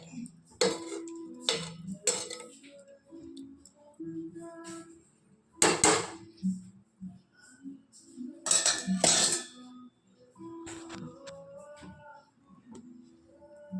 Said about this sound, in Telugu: చేపలు కూడా మనము 4 వైపులా నిదానంగా కలుపుకోవాలండి